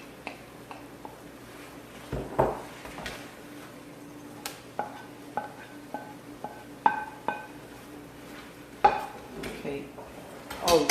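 Fresh vegetables are tipped into a stew pot and stirred, making a string of irregular clanks and knocks of a utensil against the pot over a low background, with no talking.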